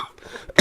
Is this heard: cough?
yes